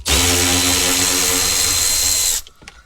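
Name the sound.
power tool undoing center console bolts, Mercedes CLK W209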